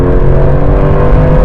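A Porsche 911 Turbo S engine revs under acceleration, a loud, dense and steady roar that holds close and continuous through the short stretch, with no voices.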